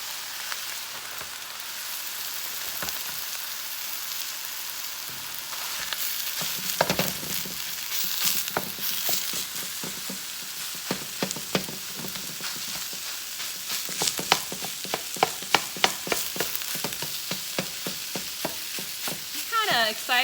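Plant-based ground meat browns in a pan, a steady close sizzle and fry crackle with repeated scraping and stirring clicks that grow busier toward the end, with no talking.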